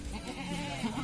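A goat kept as livestock on a farm bleats once, a short wavering nasal call heard close up over faint background noise.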